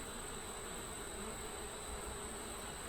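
Honey bees inside a beehive make a steady, faint, continuous buzzing hum with no break across the whole stretch, and no one speaks over it.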